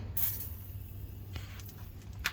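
A brief hissing spray from an aerosol can of penetrating oil, held upside down, starts and sputters, followed by faint clicks and shuffling over a low background hum.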